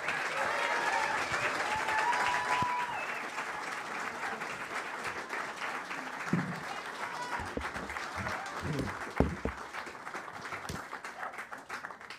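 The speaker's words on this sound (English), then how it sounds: "can we have a big round of applause for all the way from Colin Broderick?" Applause for the musician Colin Broderick at the 25th St Louis Tionol, an Irish traditional music festival. A crowd claps steadily and fairly loudly for about twelve seconds, with a few cheers and brief stray voices that fade out near the end.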